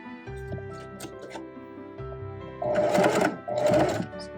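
A sewing machine runs a long basting stitch at stitch length 4 with dark thread on a McCall's inverted notched collar, sounding in two short close bursts of steady whirring with a brief pause between.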